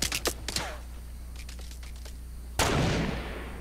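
Gunfire in Fortnite: a few quick sharp shots at the start, then a louder blast that decays slowly, with steady game background hum and no talk over it.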